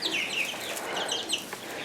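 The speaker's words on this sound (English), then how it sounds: "So these are all of our little chickens." A flock of about ten young chickens clucks in a barn, with quick overlapping high chirps and clucks bursting out at close range over a soft background.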